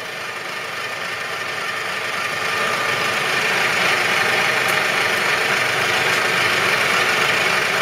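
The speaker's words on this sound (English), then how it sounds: "We'll now demonstrate spindle going back in." A Union BFT125/5 horizontal boring and facing machine retracting its spindle gives a steady, dense mechanical whir and hum that swells slightly and holds evenly throughout, close and loud with no voices.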